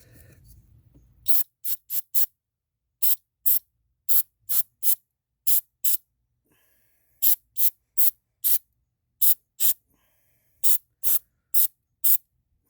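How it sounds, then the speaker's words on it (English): A series of short, sharp bursts of throttle cleaner sprayed from an aerosol can, each a quick hiss, spaced in quick irregular groups with brief silences between them, close and fairly loud, during work on a boosted Mazda RX-8. "Let's spray a little, sorry about that, a little throttle cleaner in here."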